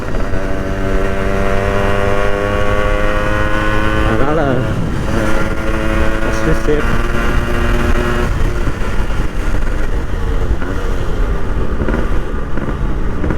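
A motorcycle ridden along a village road hums steadily with a shifting engine pitch as revs rise and fall, close and constant, while someone talks over it.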